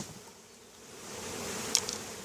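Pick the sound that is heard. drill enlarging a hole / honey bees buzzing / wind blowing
honey bees buzzing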